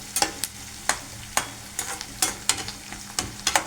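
Sliced onions frying in oil in a pan, stirred now and then, with sharp scraping strokes at a steady rhythm over a soft, steady sizzle, close and moderately loud.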